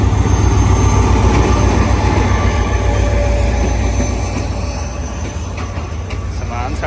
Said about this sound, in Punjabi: ਇਹ ਆ ਗਈ ਟ੍ਰੇਨ ਜਨਾਬ